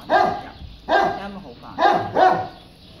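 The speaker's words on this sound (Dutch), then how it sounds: "Ze is echt een lief hondje." A small female dog barks four times in short, close yapping bursts spaced about a second apart, loud and near, with faint room noise between barks.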